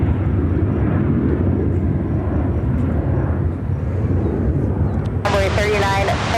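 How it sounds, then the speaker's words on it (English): An American Airlines Boeing 737-800 taking off at Chicago O'Hare, a loud continuous engine roar with broad rumbling noise, and a radio voice cutting in near the end. "American Airlines 248 taking off to San Diego on 737-800"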